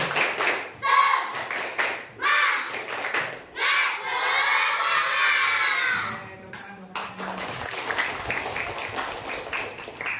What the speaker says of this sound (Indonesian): Sebelum kita lanjutkan, kita tepuk semangat.